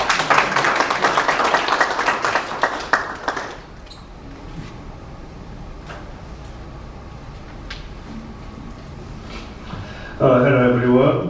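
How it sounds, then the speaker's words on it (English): At a Korean-American veterans' memorial ceremony in Atlanta, a crowd claps loudly for a few seconds before the applause cuts off into quiet room tone with scattered ticks, then a voice begins speaking. "Please give him a warm round of applause."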